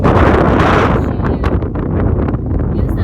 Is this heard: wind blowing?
yes